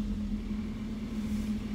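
A Ford XR2 engine fitted with throttle bodies gives a steady, moderately loud mechanical drone at constant revs, heard alone for under two seconds.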